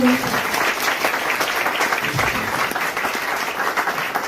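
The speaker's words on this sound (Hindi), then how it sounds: "एक बार जोरदार तालियां हो।" Steady, dense applause fills the hall at a business seminar, a sustained wash of many hands clapping at even loudness, with a brief voice at the very start.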